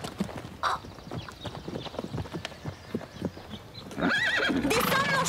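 A horse's hooves clip-clop in an irregular walking rhythm, close by, then the horse gives a loud, shrill neigh near the end.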